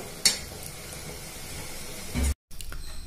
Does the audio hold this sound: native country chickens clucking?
no